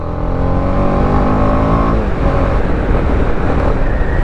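A TVS Apache RR310 motorcycle is ridden on an early-morning road, its loud close engine holding a steady hum that shifts into rougher, wind-buffeted roar partway through, with no talk.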